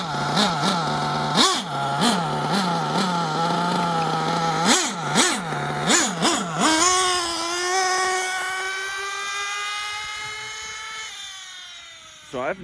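A small high-pitched nitro engine on a Losi RC truggy revs in repeated sharp bursts, then holds a long steady whine before cutting off near the end.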